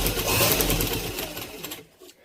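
Sewing machine stitching the side seam of a baby girl's frock, a short close burst of rapid mechanical whirring that runs for under two seconds, then stops, with a voice speaking alongside.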